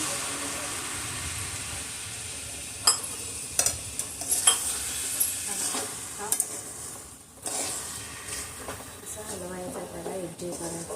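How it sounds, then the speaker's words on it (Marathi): Coconut barfi mixture of grated coconut, sugar and milk is stirred in a pan, with scraping clicks and soft sizzling throughout and a few sharper utensil knocks. Someone talks over the stirring. "असं छानपैकी हलवून घ्यायचं आहे एकजीव करून घ्यायचं आहे"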